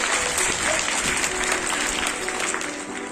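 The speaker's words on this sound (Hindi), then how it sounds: "तालियों से इसका।" Crowd clapping for a prize winner at a painting competition on World Water Day, a thick, continuous roll of applause that stays steady and slowly eases toward the end.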